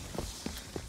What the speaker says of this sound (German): Steps.